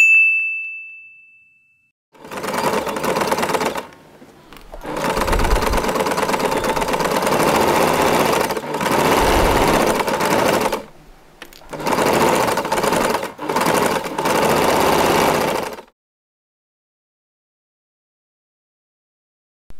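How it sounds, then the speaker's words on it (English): A sewing machine runs in several bursts as it stitches along the fabric edges of a handled zipper pouch, each run a steady buzzing whir broken by short pauses, loud and close, with no talking. "Then we are going to sew along the edges."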